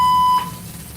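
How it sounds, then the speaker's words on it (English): A fire alarm in a building sounds a steady high-pitched tone that cuts off abruptly after about a third of a second, leaving a low background hum. "fire alarm is going off."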